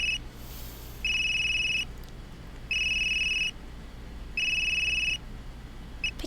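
A telephone rings in the detective game Unheard in three regular bursts, each electronic double-tone trill lasting under a second with short pauses between, clear and close over a low steady hum.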